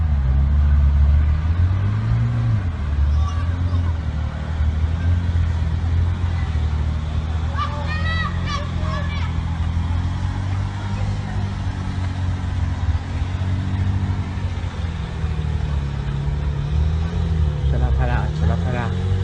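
Porsche sports car with a loud, continuous low engine rumble and revving, accompanied by crowd chatter and voices.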